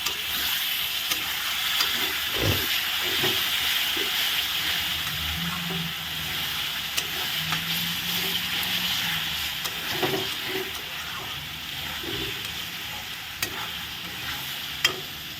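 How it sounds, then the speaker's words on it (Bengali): Ground spices frying (bhuna) in oil for a boal fish head curry give a steady, close sizzling hiss, with occasional spoon scrapes and knocks of stirring in the pan, no talk. "এখন মশলাটা ভালো করে কষানো হবে"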